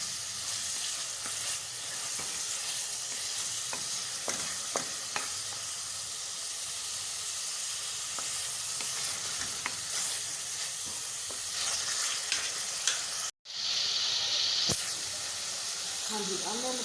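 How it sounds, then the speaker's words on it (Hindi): Chicken pieces fry for a jalfrezi in a hot pan, a loud, constant close sizzle with scattered stirring clicks and spatters, a momentary dropout, then a hissing burst before the frying continues. "चिकन को हम लोग इसके अंदर डालकर इसको पकाएंगे"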